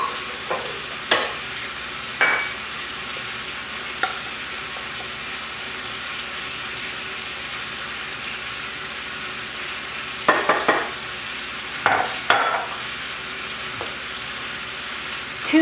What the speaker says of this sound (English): Now I'll wait for my chicken to brown on this side